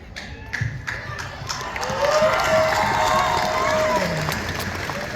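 A large protest crowd at a No Kings rally in Milwaukee breaks into applause and cheering, scattered claps swelling into loud sustained clapping and whoops that carry on steadily.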